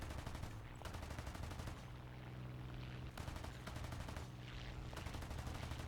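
Bursts of P-47 machine gun fire in the War Thunder flight game, three long rapid-fire volleys separated by short pauses, loud and crackling over the steady drone of the fighter's engine.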